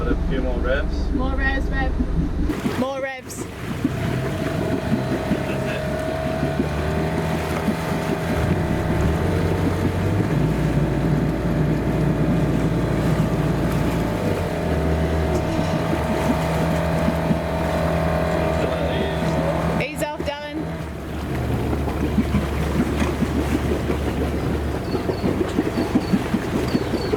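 Sailboat's engine revving as the boat anchors, a steady loud drone with wind buffeting the microphone and voices calling out over it, two brief gusty bursts breaking the hum.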